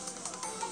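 A phone ringtone chirps in short, bright repeating pulses, fairly faint and brief, heard alone without talking.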